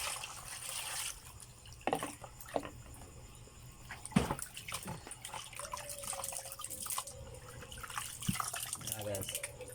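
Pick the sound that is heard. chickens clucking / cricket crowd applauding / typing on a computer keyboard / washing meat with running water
washing meat with running water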